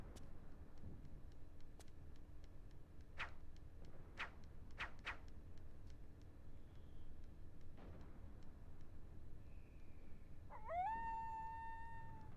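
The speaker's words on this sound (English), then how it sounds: "Good lookout dog, huh?" A dog howls nearby toward the end, one long rising-then-falling wail, after a stretch of quiet background noise and scattered clicks.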